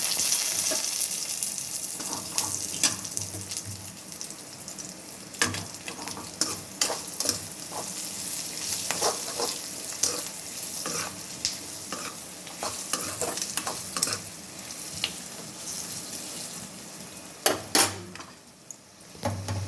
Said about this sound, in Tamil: இதில் போட்டு வதக்கி விடுவோம்.